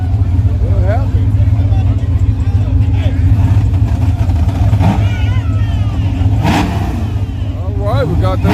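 Nitrous-fed street race car engine revving hard at a street race, with a crowd babbling and talking throughout; the engine roars steadily close by, rising in pitch in bursts.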